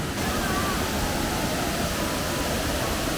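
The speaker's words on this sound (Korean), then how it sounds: "그냥 물소리만 들어도 더위가 가시는 느낌이다" Swollen mountain valley stream running fast after heavy rain the day before, a steady, loud, broadband rush of water that fills the whole stretch without letting up.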